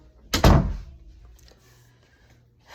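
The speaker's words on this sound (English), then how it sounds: "Let me close my bedroom door because my kids." A bedroom door shuts with a single loud, close thud, followed by quiet room tone and small faint knocks.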